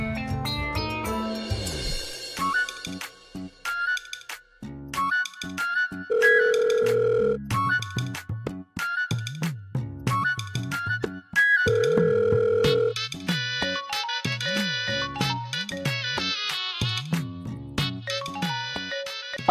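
A telephone rings with an electronic melodic ringtone that repeats loudly for the whole stretch, the call going unanswered, with no voices over it.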